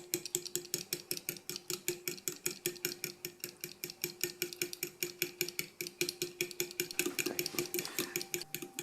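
Konjac flour is stirred into wet doughnut batter with a utensil knocking against the bowl in quick, regular strokes. The close, repetitive clatter runs steadily throughout.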